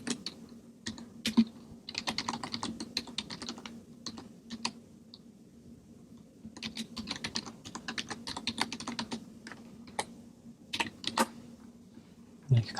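Quick bursts of close, crisp keystrokes clatter on a computer keyboard, with short pauses between runs and a faint background hum beneath them.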